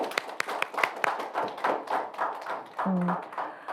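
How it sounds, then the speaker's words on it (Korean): Scattered clapping from a small audience at a local community forum, uneven individual claps spreading through the room, with brief murmuring voices over the top. "우리 모두 다 같이 박수 한번 쳐드리시게요."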